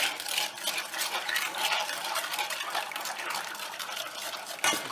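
A spoon stirs homemade doughball bait of sugar and Jello in a bowl, giving a steady wet scraping and sloshing that runs continuously and fairly quietly, ending in a sharper knock.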